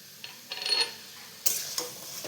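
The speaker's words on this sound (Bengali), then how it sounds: "এটাকে ভালো করে নাড়াবো যাতে চিনিটা গলে যায়।" A spoon stirs taro leaf curry in a pan while sugar melts, giving a few soft scraping and sizzling strokes, close and fairly quiet, with no talking.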